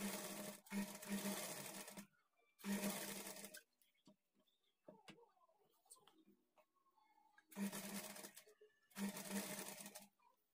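A sewing machine stitches a plain blouse in four separate bursts of fast, even whirring, with quieter pauses between them holding faint handling noises.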